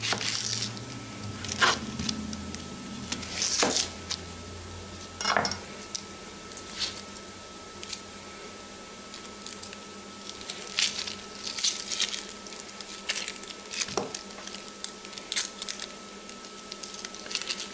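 A knife cutting the ends off a pineapple on a board, a few scattered thuds and crunchy cuts close by among faint kitchen clatter, quiet between strokes.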